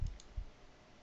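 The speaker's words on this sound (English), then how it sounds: "I'm going to just left click anywhere in view number 2" Two quick, close left-button clicks of a computer mouse, sharp and dry, followed by quiet room tone.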